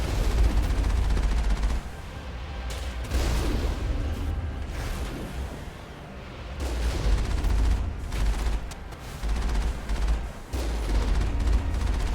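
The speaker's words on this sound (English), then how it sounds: "that's a lot of rockets" Rockets and heavy weapons firing in the video game Mass Effect 1, a dense, continuous barrage of booming blasts and whooshes with rising and falling surges, loud and sustained throughout.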